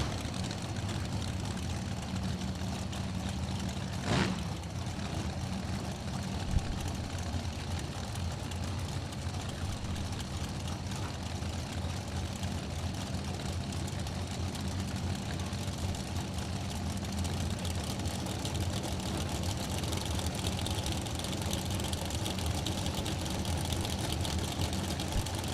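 A pair of dragster engines rumbles as a low, steady drone at a drag race, distant and constant, with a brief sharp crack early on.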